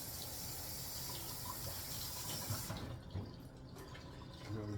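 Tap water pours and splashes over a palmful of celery leaves being rinsed, a steady close gush that cuts off partway, followed by a few faint drips and handling sounds.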